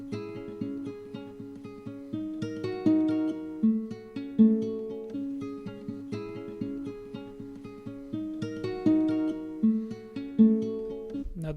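A textural guitar layer in a sampled hip-hop style beat, made in FL Studio, plays looping plucked chord patterns with rhythmic accents repeating steadily for several bars, fairly quiet and with no voices.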